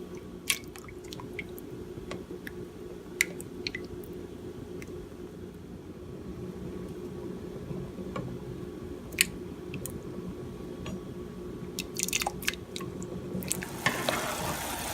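Canned tomatoes and tomato paste going into a pot of homemade chili, with soft, wet squelching and stirring, a few sharp clicks and a brief splashy burst near the end, close and fairly quiet.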